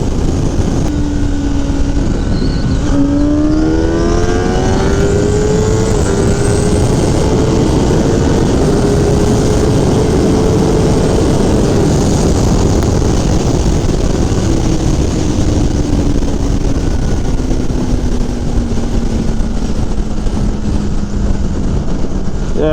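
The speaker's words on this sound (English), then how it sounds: "Let's get a little room so we can slow down and try to hit it out of first." A 2021 Kawasaki Ninja ZX10RR accelerating hard out of first gear, a loud, close engine roar rising steeply in pitch, then holding and slowly falling under heavy wind rush.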